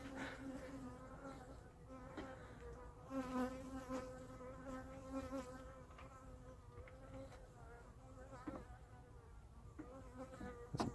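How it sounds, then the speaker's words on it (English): A honey bee guard buzzing around a beekeeper's head at an open hive, a close, wavering drone that swells and fades as it circles, with faint clicks and rustles of hive work behind. "This guard bee is just buzzing around my head."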